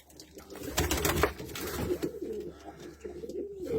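White pigeon chicks cooing close by, soft throaty coos repeating in uneven bursts over a low background murmur.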